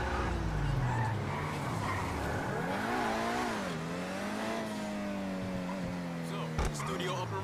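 A car's engine drones and shifts pitch as it is driven in the Grand Theft Auto video game, rising and falling steadily under a dense wash of background game sound.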